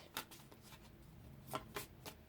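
Tarot cards being shuffled, with several sharp riffling bursts in irregular succession over a quiet background and no talking.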